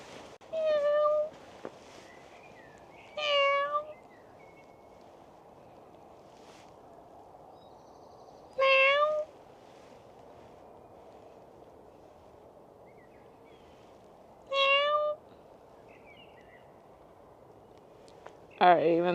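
A cat meows repeatedly, about five short, separate calls spaced several seconds apart over a quiet, steady background hum, fairly close.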